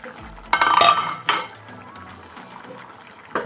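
A utensil scrapes and clinks against a pan while stirring chicken fry for egg biryani on a low flame, with two sharp metallic bursts early, then softer scraping that tapers off.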